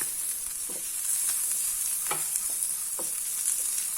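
Chutney ingredients, including roasted gram, sauté in a pan with a steady close sizzle and a few soft scraping stirs of a spatula, with no one speaking.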